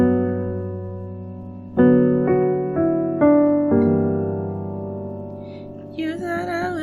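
Keyboard playing the intro chords of a song, a sustained chord followed by several struck chord changes in a slow rhythm, ringing clearly with no voices, and a brighter wavering tone entering at the end.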